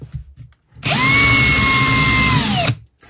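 Close, loud power drill boring with a Parkside HSS 8 mm metal bit, one sustained whining run of about two seconds that starts and stops sharply, with brief handling knocks before it.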